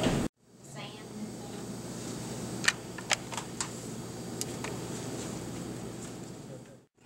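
A computer keyboard being typed on during a redevelopment authority meeting, with a few sharp, scattered key clicks standing out over steady room noise.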